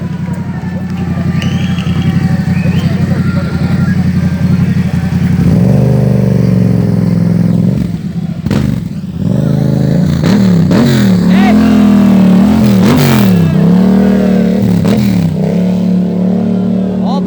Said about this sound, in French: On filme les motos, nous.